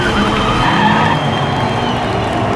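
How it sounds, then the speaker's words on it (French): Diecast toy race car, a Chevrolet, skidding and drifting along the track rail in a miniature car race, a loud continuous scraping, squealing rush of wheels lasting throughout with no voices. "La Chevrolet fait un petit écart et drift sur la rambarde."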